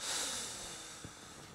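Two people breathe together during a greeting, a soft, airy exhale giving way to a quiet inhale, close and breathy with no speech.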